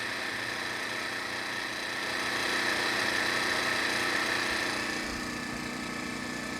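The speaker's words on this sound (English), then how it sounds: "Real quiet generator." A Harbor Freight Predator 1400 inverter generator runs in eco mode, a steady, fairly quiet engine drone with a constant mechanical hum that swells slightly midway, heard alone without talk.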